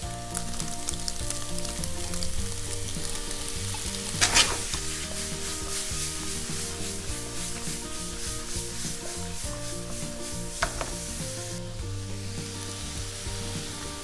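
Sundae (Korean blood sausage) and gopchang (beef or pork intestines) stir-frying in a pan with sauce, giving a steady wet sizzle and scraping rub throughout, with a few sharper clanks from stirring, close up and with no talking.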